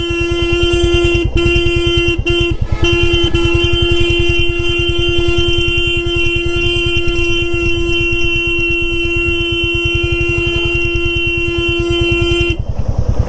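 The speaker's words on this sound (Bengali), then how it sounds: "আমি তো হর্ন মেরে রেখেছি বাসটাকে।" A vehicle horn blares loud and close in one long, steady honk with a few brief breaks early on, sounded at an oncoming bus on a narrow mountain road in Nepal between Ghandruk and Jomsom, with engine noise underneath.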